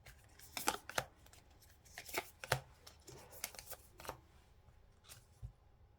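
A deck of divination cards being shuffled in a series of quick, crisp riffling bursts at close range, with short pauses between bursts and no voices.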